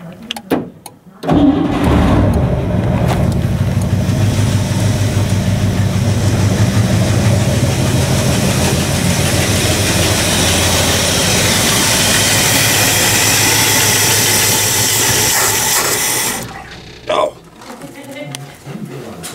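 A Pontiac engine cranks briefly, catches and fires up, then runs at a loud, steady idle close by for about fifteen seconds before cutting off, with a few short noises afterward.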